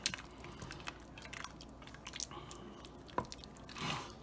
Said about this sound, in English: So just stir it around, make sure your seafood's busted up a little bit.